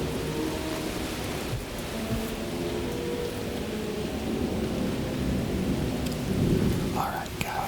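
Steady rain and low rumbling thunder fill the space as ambient backdrop for a whispered ghost story reading, a continuous moderately loud wash with a swell of rumble toward the end.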